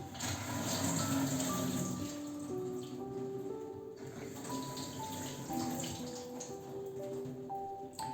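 Steady, fairly loud rush of water running from a tap in a home kitchen, flowing continuously and alone without any voices.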